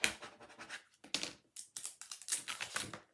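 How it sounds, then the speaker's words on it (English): Cut vinyl Halloween lettering being scraped with a tool, a series of short, close scratching strokes in an uneven rhythm. "And let's give it a little scrape."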